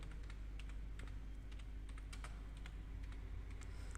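Keys on a computer keyboard are typed in a steady run of light, close clicks, entering a narration into accounting software, over a constant low hum with no speech.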